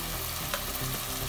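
Onion paste masala frying in a pan as the base for a fish curry, a dense continuous sizzle with faint stirring scrapes, close and steady.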